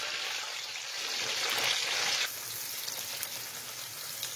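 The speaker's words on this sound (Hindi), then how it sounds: "ये देखें प्याज फ्राई हो गया।" Finely chopped medium onion frying in a pot with green cardamom pods gives a soft, continuous sizzle nearby, swelling briefly in the middle before settling back to a quieter crackle, with no voices.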